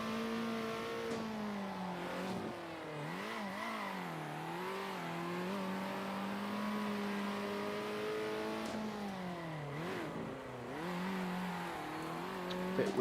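A race car engine revs and sweeps up and down continuously in the Circuit Superstars racing video game, pitch rising on straights and dipping through corners, with brief tire squeal, steady and prominent with no talk.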